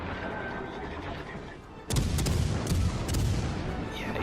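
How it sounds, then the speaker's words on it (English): Naval guns of a warship in World of Warships: Legends fire with a sudden heavy boom that cuts in over steady engine and sea rumble, followed by a few more rolling blasts close together. "Fire the guns."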